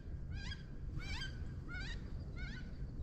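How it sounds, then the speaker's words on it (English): Waterfowl flying over a riverbank, giving four clear, evenly spaced honking calls, faint and distant above a steady low background rumble. "Here comes the ducks."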